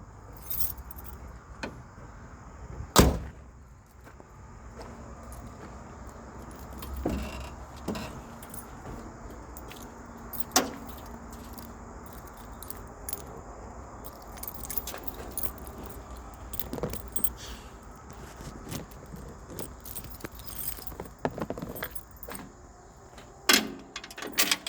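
Keys jangle in short metallic bursts beside a truck, with faint clinks and rattles scattered over a steady background hum and no speech.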